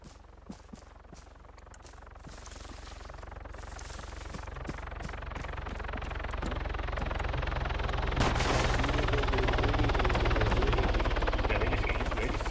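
A helicopter in Arma 3 thuds with a steady rotor throb that grows louder over time, while scattered gunshots crack around it and brief talk can be heard.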